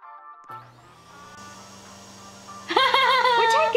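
A vacuum tool in the Roblox video game whirs steadily with a low motor drone, then a brighter warbling electronic tone joins near the end, loud and close.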